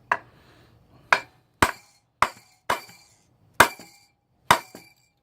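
Seven sharp, ringing metal hammer blows on a GY6 scooter brake shoe anchor pin, spaced roughly every half to one second, each a loud close strike with a short decay.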